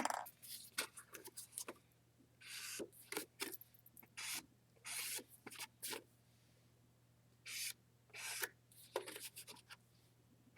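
An ink pad or applicator rubs along paper edges while a card album is made, giving repeated short, dry brushing scuffs in uneven bursts, close and fairly quiet, with pauses between strokes.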